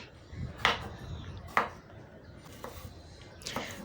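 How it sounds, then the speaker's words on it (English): A knife chops vegetables and onion on a cutting board, with four distinct, fairly loud chops spaced about a second apart against a low background rumble, ahead of a creamed African nightshade dish. "So next I'm going to chop my vegetables."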